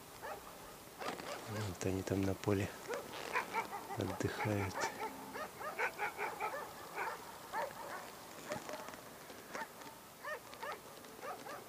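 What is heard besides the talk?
dog barking at a distant private house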